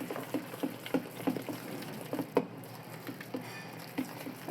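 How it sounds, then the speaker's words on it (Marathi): Besan batter seasoned with salt is whisked for kothimbir vadi, giving soft, wet, rhythmic slapping taps at a steady pace, quiet and close with no talk. "आणि आधी फेटून घेते चांगलं"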